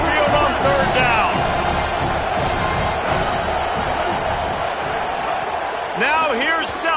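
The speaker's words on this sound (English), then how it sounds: "The Tide crowd rolling noise down onto Saban Field on 3rd down." A large Alabama football stadium crowd roars steadily on third down, a dense, sustained wash of distant cheering beneath a commentator's continuous play-by-play voice.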